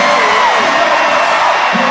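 An arena crowd at a WNBA playoff game between the Aces and the Storm roars and whoops after a missed free throw, a loud sustained cheer with no break.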